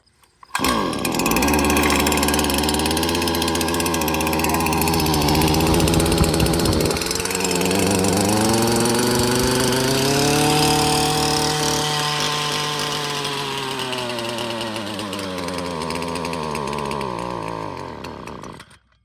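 An old gas-powered string trimmer engine runs close and loud, its buzzing two-stroke drone holding steady before the pitch sags and rises with throttle changes and then cuts off at the end.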